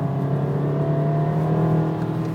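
Race car engine on the Nordschleife holding a steady, loud drone from close up, climbing toward the rev limit and shifting through fourth and fifth before dropping back to third, with no voices.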